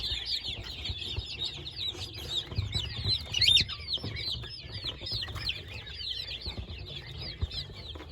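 Chicks and chickens in a coop during an evening visit, a dense, continuous chorus of high chirping and clucking close by, with a brief louder flurry near the middle.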